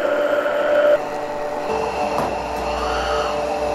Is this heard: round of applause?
no